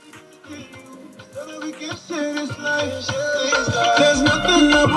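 Music playing through the eight-speaker JBL sound system inside a Haval Jolion, starting quieter with a picked melody and then swelling into fuller, louder instrumentation with deep bass over five seconds.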